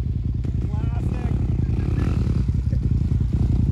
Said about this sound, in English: Burn that tire off too.